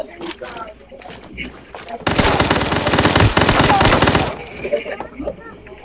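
Rapid automatic gunfire from the Knives Out battle royale game bursts out for about two seconds mid-clip, loud and dense, with sparser shots and game sounds before and after it while a player talks.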